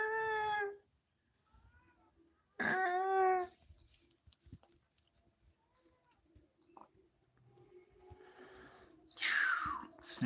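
A cat with a respiratory illness gives raspy, strained meows, two loud harmonic calls near the start with fainter rough sounds between and a harsher cry near the end.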